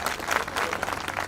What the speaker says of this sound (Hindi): जोरदार तालियां फिर से हो जाती हैं